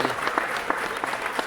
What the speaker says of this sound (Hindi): अपने लिए तालियां बजाइए, जोर जोर से बजाइए।